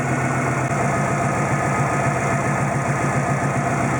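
A Subaru Impreza GT engine idles steadily with a faulty fuel pressure regulator, running too high fuel pressure at idle. The low, even mechanical drone and vibration stay constant throughout, close up and alone.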